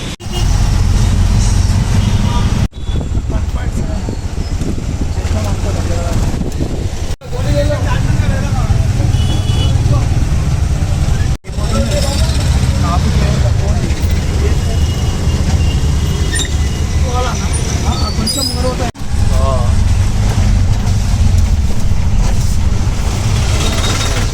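A ride in an auto rickshaw heading through Dhoolpet, filled with a loud, constant engine rumble and road roar, with a few brief dips in the noise.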